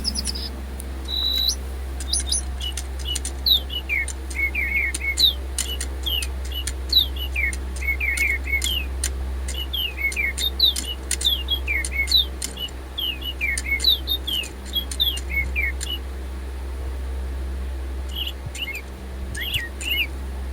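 Electronic toy birds chirp together in choir mode, a busy overlapping chorus of high tweets and warbles over a steady low electrical hum, fairly close and continuous with no talk; the toys are running on low batteries.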